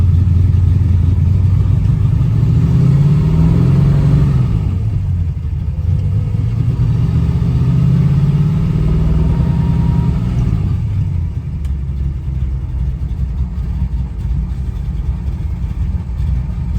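A 1967 Chevrolet Camaro on a test drive in Kentucky, its engine rumbling loud and close, revving up and settling back to idle in a couple of swells before a steady low idle.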